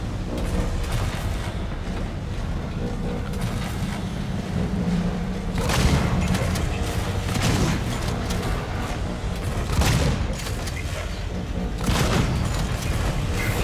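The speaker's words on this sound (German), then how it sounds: "Vier Schüsse für einen." Gunfire in the survival horror game Alien: Isolation: a few heavy, booming shots spaced seconds apart rise out of a constant low, roaring background rumble.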